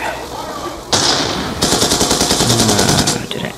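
Dragon Fire called in during a video game unleashes loud, rapid automatic gunfire, sustained bursts of sharp repeated shots close up, with game effects in the background.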